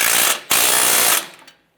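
A hand ratchet clicks rapidly and loudly close by while tightening strut bolts on a 2006-2011 Honda Civic, two quick runs of dense clicking separated by a brief pause, then fading out.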